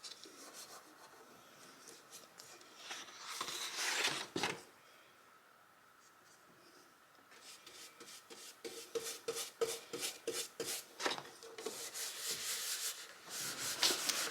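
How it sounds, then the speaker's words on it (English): Paper being rubbed down while glued onto an upcycled thrift store piece for a craft project: close, soft scratchy strokes in uneven bursts, separated by a quieter pause around the middle. "I am just going to start on a side here and start gluing it down."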